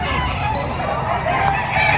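Roosters crowing loudly and close at a busy chicken market in Padre Garcia, Batangas, with clucking fowl mixed in and a continuous crowd murmur underneath.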